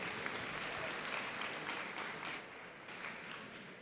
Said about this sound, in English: one more round of applause for Sam